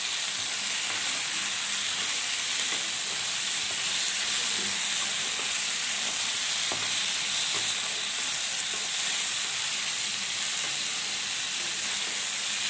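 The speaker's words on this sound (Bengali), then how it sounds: "বেশ খানিকক্ষণ আমার নাড়াচাড়া হয়ে গেছে, আর সবজি গাগুলো একটু ভাজা ভাজাও হয়ে গেছে।" Mixed vegetables for a sweet, traditional Bengali shukto with neem fry in a pan, giving a steady hissing sizzle with occasional faint stirring knocks. It stays close and even throughout, with no talking.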